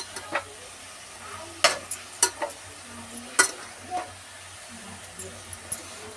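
Carrot halwa (gajar halwa) being stirred in a pan, a faint low sizzle with a series of distinct scraping and knocking strokes of the spoon against the metal, close and intermittent, with no voices.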